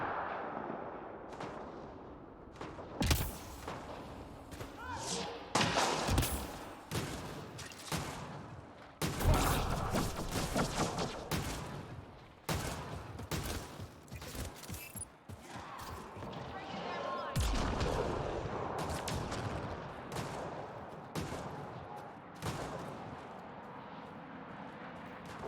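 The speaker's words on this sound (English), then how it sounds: "They're shooting something." Heavy gunfire and artillery-like blasts erupt in repeated bursts during a Mass Effect: Andromeda fight, with loud booms and rumbling aircraft-like noise filling the scene, overlaid with voices.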